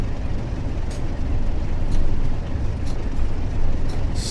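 A train waits in the sidings, heard as a steady, loud, broadband rumble with low machinery noise throughout. A few brief hissing bursts come through, likely from air brakes, and no one speaks.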